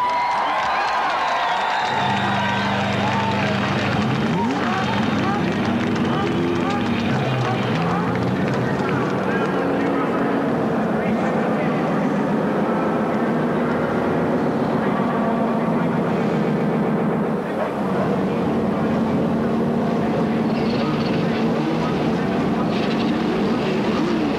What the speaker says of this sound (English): Gentlemen, start your engines!